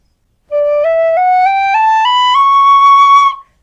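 A tin whistle climbs step by step up a scale in its low first octave, about eight clear, sustained notes played smoothly and loudly, with no talking.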